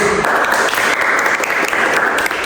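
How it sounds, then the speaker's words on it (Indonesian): A school class applauds after their teacher's remarks, a loud, dense, steady burst of clapping from many hands close by, sustained throughout with no pause. "Ayo tepuk tangan dulu."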